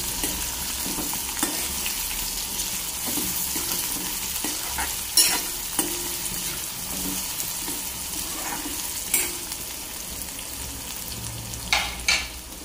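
Onions and green chillies fry in a pan until browning, a continuous sizzle with intermittent stirring scrapes and a few sharp utensil clanks near the end.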